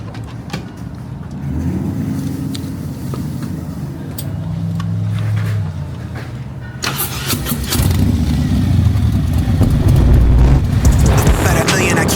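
A Harley-Davidson Road Glide bagger motorcycle fires up nearby, a loud engine start followed by a rising, rumbling idle, with some background voice or music mixed in.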